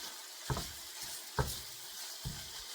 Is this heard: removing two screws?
no